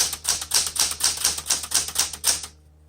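A 1974 Smith Corona Classic 12 manual typewriter clacks through a steady run of about eleven crisp key strikes at an even brisk rhythm, close and loud, then stops abruptly.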